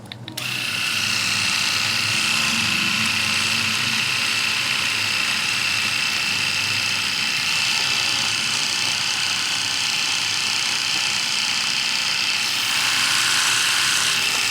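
An Enchen Blackstone 3 electric mustache shaver switched on and running steadily, a close, constant buzzing whir that starts abruptly and continues without pause.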